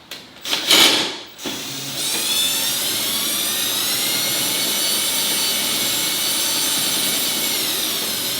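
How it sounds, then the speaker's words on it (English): A cordless drill drives a garage storage lift mechanism, with a few clunks as it engages, then a loud, steady high-pitched whine from the motor that holds constant for several seconds. "So I'm just gonna use the drill."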